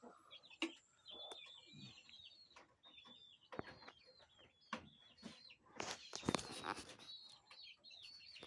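Chickens cluck and chirp in short, irregular bursts while being fed rice, with scattered rustling and a few sharp knocks in between, all fairly close.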